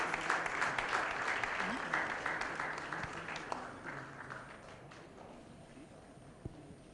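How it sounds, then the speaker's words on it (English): An audience at a Fortis press conference applauding steadily, dense clapping that gradually thins and fades toward the end, with faint voices underneath. "I think the clap should continue."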